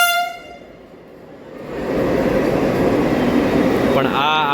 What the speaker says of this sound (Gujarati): વંદે ભારત આવી ગઈ છે